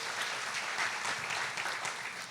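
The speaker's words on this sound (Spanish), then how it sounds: "Un aplauso al Señor." A church congregation applauds steadily during a Spanish-language sermon service, a dense sustained wash of clapping for a couple of seconds, moderately distant and without speech over it.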